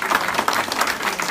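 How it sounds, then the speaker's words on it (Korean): An audience claps at a Korean community association's annual general meeting and inauguration ceremony in Auckland. The applause is a thick, continuous wash of many hands, with individual claps standing out, and fills the whole moment. "크게 박수를 해쳐주시고"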